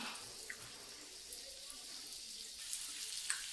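Halwa, a pomfret-like fish, frying gently in a pan over a low flame, giving a faint, steady sizzling hiss with a few small crackles and pops.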